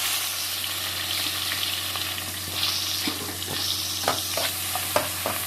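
Chopped ingredients fry in oil for a chicken gravy with a constant close sizzle, while a spoon stirs them in repeated scraping strokes that grow busier toward the end. No one speaks.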